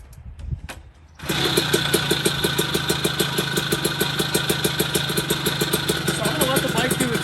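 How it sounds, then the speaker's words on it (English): A Puch Maxi 70cc kit moped engine catches after a brief sputter and settles into a fast, steady idle while warming up, close and loud with an even rapid putter. "Let the bike do its thing. I'm gonna let it warm up"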